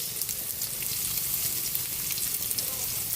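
Garlic and onion sautéing in cooking oil in a pan, a steady close hiss of sizzling that holds evenly throughout with no pauses.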